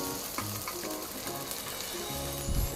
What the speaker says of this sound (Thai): ทำการผัดคลุกเคล้าให้เข้ากันนะครับ